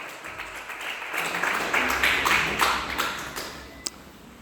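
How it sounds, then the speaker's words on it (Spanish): A church congregation applauding for Jesus Christ, clapping that builds over about a second and continues steadily, with one sharp louder clap near the end. "Déale fuertes palmas a Jesucristo."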